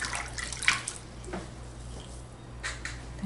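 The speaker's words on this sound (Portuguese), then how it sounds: "Os 30 primeiros dias de vida do bebê no rosto a gente lava só com água e um algodãozinho molhado." Water sloshes gently while a newborn baby is bathed, with soft, faint splashes and drips scattered through a quiet room.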